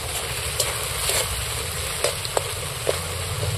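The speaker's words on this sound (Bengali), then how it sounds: "এইবার আমি এটাকে ভালো করে কষিয়ে নিই।" Fish coated with turmeric being sautéed in a pan, a dense continuous sizzle broken by a few sharp clicks of a spatula against the pan, close and steady, with no speech.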